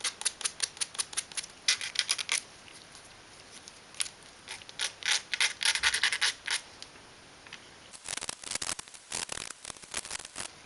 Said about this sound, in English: Find 4 of these spaces. Sand off any tabs.